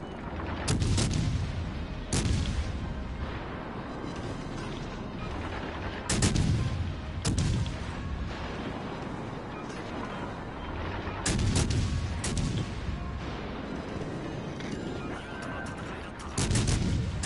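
Naval guns firing shells in a ship combat game, heavy booming salvos at irregular intervals over a constant low rumble of engine and sea noise, each shot loud and close with a short decaying tail.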